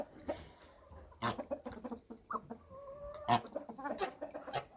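A Marans rooster and turkeys in a farmyard give scattered clucks and short throaty calls, with a few drawn-out tonal notes, close by and at moderate volume with no talking.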